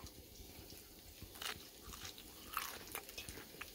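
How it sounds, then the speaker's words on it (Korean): Someone bites into a crispy kimchi pancake at an outdoor camping market, giving several close, crisp crunches followed by chewing. Faint background noise sits underneath. "아, 김치전 하나 먹어볼게요."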